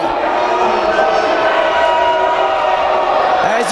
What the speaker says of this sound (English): As you can hear, the crowd is booing.